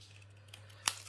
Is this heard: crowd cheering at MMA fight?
no